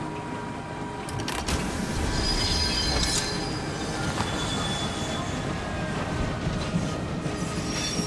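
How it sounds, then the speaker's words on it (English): An abandoned train in the Voidtrain video game rolls along its rails, a steady loud rumble with metallic wheel squeal and faint high tones throughout, no voices. "There's an abandoned train."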